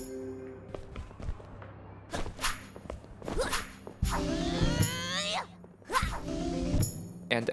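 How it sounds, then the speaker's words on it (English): Percussive magic effects for the character Bella in the video game Sorelle: a series of sharp hits, thumps and swishes with ringing tails, spaced through the clip and rising to a denser burst near the middle. "Bella's sounds are made up of percussion,"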